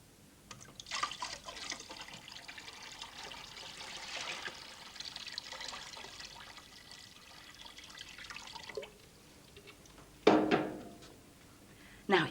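Water runs and trickles as a toilet cistern refills, a steady splashing hiss lasting several seconds before easing off, followed by a couple of louder bursts near the end.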